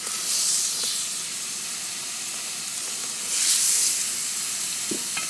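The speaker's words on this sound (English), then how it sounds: "Basically, you're searing the steaks on either side for about 3 minutes each side" Steak sears in a very hot pan on a Coleman camp stove, giving a steady close hiss and sizzle that flares louder in two bursts, with no talking.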